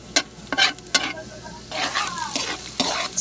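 Garlic sautéing in a pan, a close crackling sizzle punctuated by sharp scraping stirs of a utensil, the strokes irregular and fairly loud.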